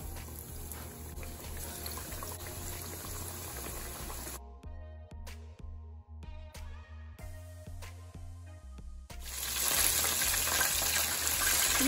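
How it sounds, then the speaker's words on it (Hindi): Chicken wings frying in hot oil, a continuous crackling sizzle that drops away partway through, then returns louder near the end, with no talking. "अब हम इसे फ्राई करेंगे"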